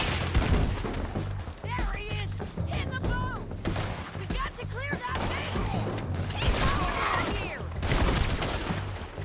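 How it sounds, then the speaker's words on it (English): Video game gunfire crackles in repeated bursts through a busy war scene, mixed with shouted voices and background clatter, fairly loud and continuous. "I'm straight on him, still every bullet misses."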